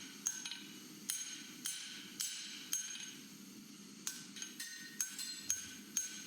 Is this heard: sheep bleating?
no